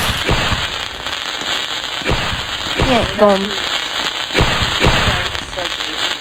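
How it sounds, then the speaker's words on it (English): Fireworks bursting in the Roblox game Brookhaven, a series of sharp booming cracks spread across the moment, with someone talking over them and a faint whistling sweep near the middle. "There's a bunch of fireworks blowing off."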